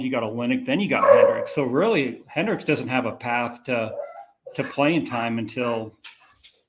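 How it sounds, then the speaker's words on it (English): A pet dog barks and yips in the background beneath steady, close conversational talk, the barks faint and partly buried under the voices. "Sorry about my dog."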